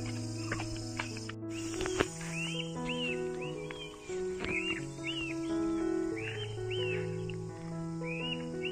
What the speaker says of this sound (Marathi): असा पक्ष्यांचा एकदम आवाज, एकदम सुमधुर आवाजामध्ये ते ओरडत आहेत